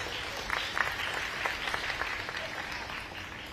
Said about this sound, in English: Let's clap for the organizers.